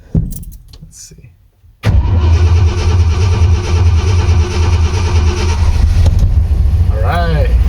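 A 1986 Ford F250 engine cranks briefly, then catches and settles into a loud, steady, rumbling idle close by, with a faint squeaky chirp near the end.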